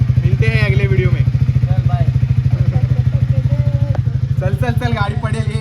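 A motorcycle engine idles close by with a fast, even, throbbing pulse that stays loud throughout, while people talk over it.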